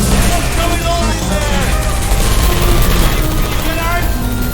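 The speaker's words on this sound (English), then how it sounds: "I heard gunfire!" Bursts of turret gunfire in the video game Portal 2, dense rapid rattling fire that runs continuously and loud, mixed with game sound effects and a voice calling out.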